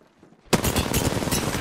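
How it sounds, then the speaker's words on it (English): Rapid automatic gunfire in the video game Apex Legends erupts suddenly after a quiet moment and continues as a loud, dense stream of shots. "I'm taking shots."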